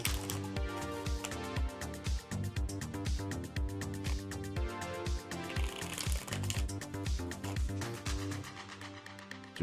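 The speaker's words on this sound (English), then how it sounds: "I've got a few more shuffles to do, then I'll give this deck a nice clean cut." A tarot deck is shuffled close up in a rapid, steady run of soft card riffles and taps lasting several seconds, with no talking over it.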